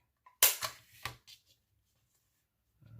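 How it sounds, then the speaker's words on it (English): A handheld stapler punches staples through a paper towel face mask near its elastic, giving a few sharp, close clicks and snaps in quick succession, then quiet. "we're going to take the stapler and we're going to put 2 staples in as close as you can to the elastic"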